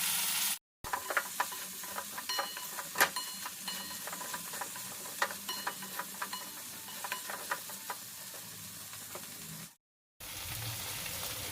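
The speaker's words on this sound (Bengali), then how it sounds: "নুন হলুদ মাখিয়ে বেগুনটা ভাজা হচ্ছে" Eggplant slices rubbed with salt and turmeric fry in hot oil, a dense continuous sizzle dotted with sharp crackles and pops, close and steady, with brief cuts to silence near the start and end.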